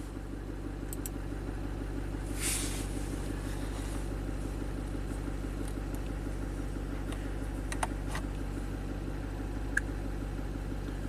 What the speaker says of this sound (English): So let's start the engine up. Starts right up.